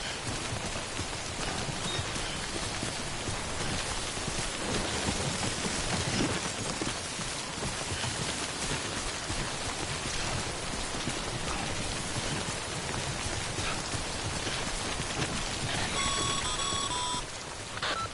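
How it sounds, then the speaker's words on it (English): Heavy timefall rain in the video game Death Stranding, a dense continuous downpour hiss filling the scene, loud and steady throughout with faint electronic beeps near the end, no voices. "Don't stay out in the rain any longer than you have to."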